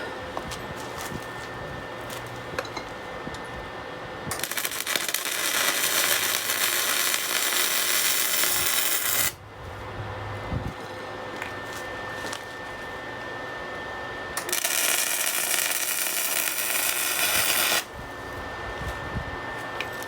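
Welding on a motorcycle sidecar, with bursts of steady, loud hissing crackle that start and stop in distinct runs of a few seconds, broken by quieter shop background.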